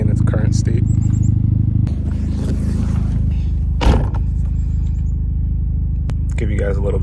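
A Hyundai Genesis Coupe 2.0T with an exhaust leak drones at a low idle nearby, its rumble dipping and changing partway through, with a brief clatter and a few faint high chirps mixed in.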